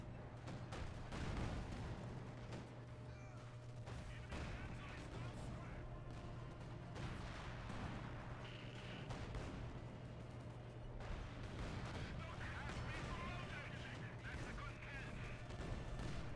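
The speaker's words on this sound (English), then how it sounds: "guess who just dropped artillery all over there?" Artillery barrage in Company of Heroes 2, a continuous rumble of distant shell impacts and blasts layered with battlefield noise, with a voice talking throughout.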